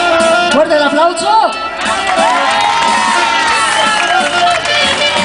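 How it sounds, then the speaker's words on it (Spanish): At a Vela Muxe celebration in Oaxaca, a close, loud crowd cheers and applauds during the ambassadors' entrance, with high shouts and whoops, many from children, over steady crowd noise. "Fuerte el aplauso."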